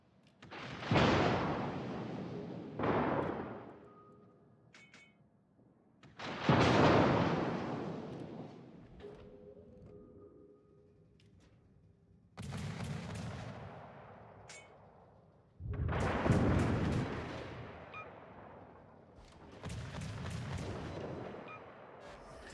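Warship main guns firing in the naval game World of Warships: a series of heavy, booming salvos, each a loud blast with a long rolling decay, separated by short quiet gaps, with no talk.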